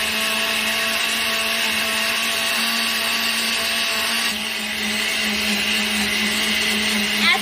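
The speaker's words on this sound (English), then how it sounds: "As it's blending, you'll start to hear a different sound, and it sounds like it's getting lugged down." A blender churns raw cow's milk cream into butter, a loud, steady motor whine with a constant hum, the pitch shifting slightly midway as the load changes, running alone without talk.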